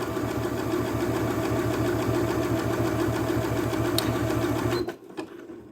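A Janome S3 sewing machine stitches steadily and loudly in a fast, even mechanical rhythm for nearly five seconds, then stops abruptly, leaving a few faint clicks and handling sounds.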